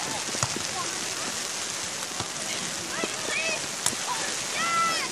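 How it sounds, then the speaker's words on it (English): Rain begins falling on an outdoor sand volleyball court at Huntington Beach, a steady soft hiss of drops on the surface with a few sharper splats, while people talk nearby throughout. "And the rain starts."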